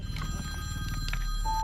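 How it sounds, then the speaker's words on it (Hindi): A mobile phone rings during a tense scene in the zombie horror film Elixir (2025), a brief electronic tone sounding over a low, busy background. "बदकिस्मती के चलते एडी के फोन की घंटी बज गई"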